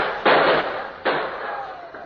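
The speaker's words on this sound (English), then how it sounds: "I want to listen to that gunfire." Two sharp gunshots from Indian carbines in a radio drama, each a loud crack with a brief ringing tail, spaced under a second apart and heard alone.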